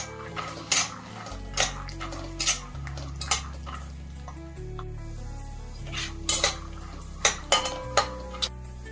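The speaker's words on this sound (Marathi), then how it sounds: "आपण आधी काय करूया शेंगादाणे भाजून घेऊया त्याच्यात छान खरपूस तळायचे" Peanuts are stirred in hot oil in a pan for a puffed-rice chivda, with repeated sharp metal clanks and scrapes of the spoon against the pan over a low hum and a faint sizzle.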